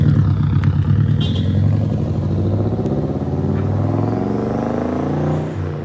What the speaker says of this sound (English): As soon as you hear the exhaust, you'll understand why I love it.